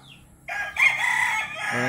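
Rooster crowing on a Filipino chicken farm, one loud close crow rising over soft clucking from the flock.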